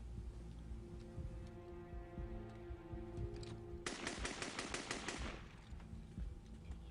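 Gunfire breaks out aboard the hijacked Air France 8969 plane: a rapid burst of automatic shots rattles out for over a second above a low, steady cabin rumble, with no talk.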